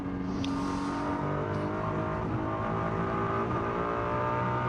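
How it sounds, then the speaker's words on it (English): GT race cars at the Macau Grand Prix, a Ferrari among them, with engines howling at high revs in a steady, loud, continuous drone, shifting pitch as they accelerate along the street circuit. "When you're sitting on board, it's just glorious to hear the cars, isn't it?"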